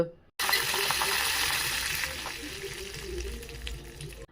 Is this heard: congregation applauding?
no